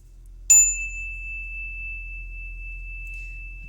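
A single bell struck once as an offering, a sharp, close strike followed by a long, pure ringing tone that fades slowly over several seconds in an otherwise quiet room.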